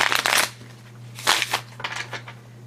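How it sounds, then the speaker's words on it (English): A tarot deck shuffled in a few short bursts of riffling card noise, close by, with pauses between them over a low steady hum. "The shuffle."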